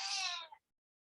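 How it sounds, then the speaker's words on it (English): A pet cat gives a single clear meow indoors in a sewing room, loud and close, lasting about half a second before silence. "And that is my cat."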